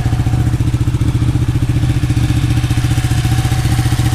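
A motorcycle engine with its original exhaust idles steadily up close, a loud, even, rapid thumping putter that holds without changing pitch.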